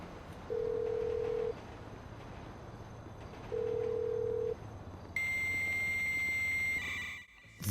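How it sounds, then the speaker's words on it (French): During a phone call in the video game GTA 5 Online, two long steady ringback tones are followed by a harsh electronic interference whine with buzzing tones that cuts off abruptly. "Voilà ce qu'on a, une genre de grosse interférence"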